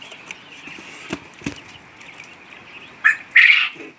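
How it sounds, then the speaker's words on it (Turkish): Female American Jumbo quail calling, with a couple of faint soft clicks early and then two louder, sharp squawk-like calls close by near the end, over a quiet background. "Amerikan Jumbo dişi bıldırcına."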